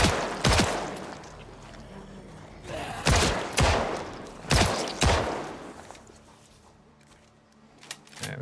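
M16 rifle fire in Project Zomboid comes as about six sharp, loud shots at irregular intervals, some in quick pairs, each trailing into a short echo, with quieter ambient noise between them.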